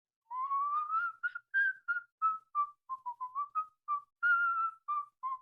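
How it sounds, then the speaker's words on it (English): A person whistles a tune on both the inhale and the exhale, giving a string of clear, close melodic notes in short phrases with brief gaps between them and no talking. "We got the inhale and the exhale whistling."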